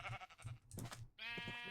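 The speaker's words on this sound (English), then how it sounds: "Minecraft sheep do look so goofy." Minecraft sheep bleating in the video game, several short wavering baa calls in quick succession, loud and close with no talking.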